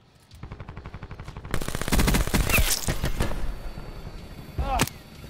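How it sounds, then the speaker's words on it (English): Shotgun and other gunfire in the video game Call of Duty Black Ops 4, starting as a rapid regular series of shots and building into dense, overlapping bursts, with a few sharp blasts near the end. "Guy's using a fucking shotgun."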